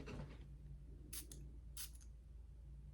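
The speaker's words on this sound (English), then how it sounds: "let's test the atomizer." A perfume atomizer on a bottle of Tabac eau de parfum gives two short, sharp sprays close up, a hiss about a second apart against a faint background hum.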